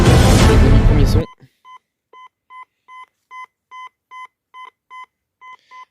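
A metal detector sweeping over a buried target during a dig gives a string of about a dozen short, evenly spaced electronic beeps, clear and steady, right after a brief burst of voice.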